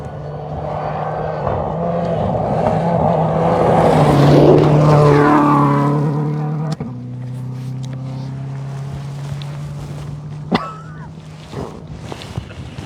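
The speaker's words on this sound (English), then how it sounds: "Hopefully you can hear the cars." A rally car on Stage 7 at Dalles Mountain in the Oregon Trail Rally approaches and roars past with a rising, then falling engine note, followed by a steady lower engine drone and a few sharp knocks.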